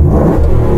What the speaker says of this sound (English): so I'm just going to rev this thing up